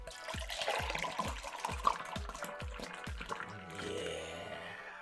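Ballast Point Red Velvet nitro beer poured from a can, a thin liquid stream glugging in a quick run of pulses, then settling into a softer foaming hiss as the glass fills.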